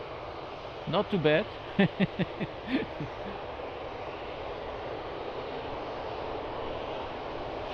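A distant airliner engine at Lisbon Airport rumbles as a steady, broad roar, with a short burst of voices speaking over it early on before it continues alone.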